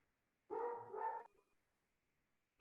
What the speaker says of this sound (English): Sorry, my dog's barking in the background.